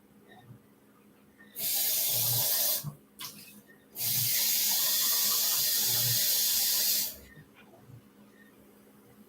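A tap runs hard, filling a container with milky water for painting, a loud steady hiss in two bursts of about one and three seconds, with a brief clunk of handling between them.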